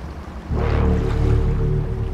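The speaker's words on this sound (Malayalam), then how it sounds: "ബോട്ട് പുറപ്പെടാൻ പോവാ." A boat's engine starts up and idles steadily at a jetty, a low droning rumble with faint water sounds, heard close with no talk over it.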